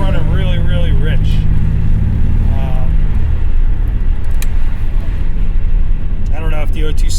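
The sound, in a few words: Buick Grand National turbo engine running rich in traffic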